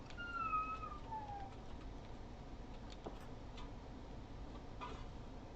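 A cat gives one short, faint meow at the start, followed by quiet room ambience with a few soft ticks and clicks.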